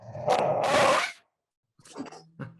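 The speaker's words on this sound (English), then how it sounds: "This is my dog." A pet dog gives a few loud, close barks and growls in two short bursts separated by a brief pause.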